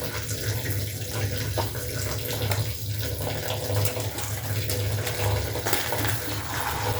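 Chowmein noodles go into a pot of boiling water for a home-style recipe, a steady watery rush and bubbling that continues evenly throughout, close and moderately loud.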